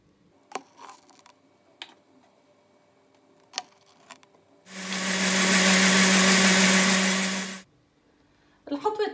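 An electric mixer beats eggs with milk and oil for a pan-baked cake, a loud, steady whirring burst lasting about three seconds, set between quieter scattered knocks and clatter.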